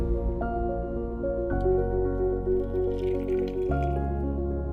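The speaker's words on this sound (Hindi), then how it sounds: "एंड हम लोग अभी पानी डालेंगे इसमें।" Water pours into a teapot holding Darjeeling white tea leaves, a steady close liquid stream with drip-like splashes over a backdrop of sustained musical tones, no talking.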